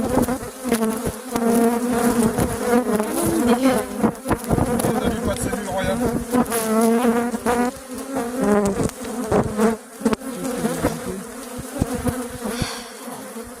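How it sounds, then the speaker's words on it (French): A dense, loud hum of many honeybees buzzing close around a hive, continuous throughout, with a person briefly speaking over it. "Donc, vous voulez voir des abeilles? Bah là, il y en a."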